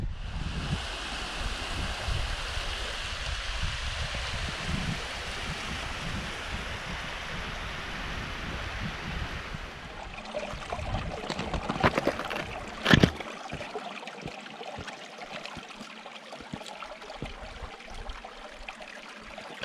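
A mountain river on the climb toward Stob Ghabhar rushes steadily as a broad, close wash of flowing water, softening after the midpoint with a brief sharp knock partway through.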